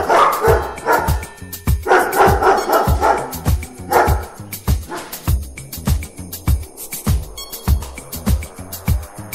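Dogs bark in a rapid, punchy rhythm set to a pounding beat in a radio show music track, loud and repetitive throughout, without any talk.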